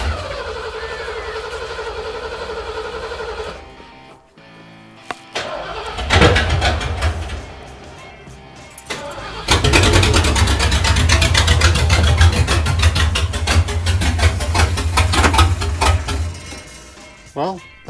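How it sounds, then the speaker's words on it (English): An old truck engine with a carburetor and the coil wire disconnected cranks over in bursts, then catches and runs roughly and loudly for several seconds before cutting out, close to the microphone. "I'm gonna crank this thing over without the coil wire on,"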